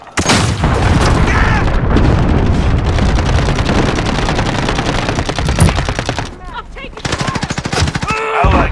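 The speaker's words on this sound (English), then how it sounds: "Allied cruise missile away." Cruise missile strike with heavy gunfire in Call of Duty: Modern Warfare: loud, dense automatic fire and booming explosions run almost continuously, briefly thinning near the end before bursts resume.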